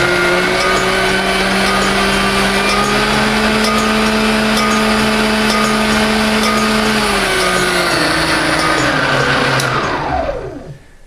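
A 1960s Kenwood A701 food mixer whirs loudly at high speed with a strong motor hum, its pitch sliding down as it winds to a stop at the end.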